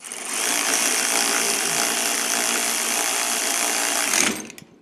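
A power tool snugs the bolts and nuts on the mounting brackets of a Roadmaster Reflex steering stabilizer, running as one loud, continuous buzzing, rattling burst of about four seconds that stops abruptly.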